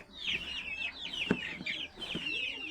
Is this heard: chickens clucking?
yes